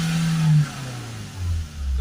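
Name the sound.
Ford Transit van engine revving up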